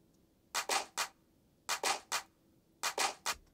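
Clap sample in a beat, struck in repeating groups of three sharp hits with short gaps between groups, fairly loud and dry with no talk.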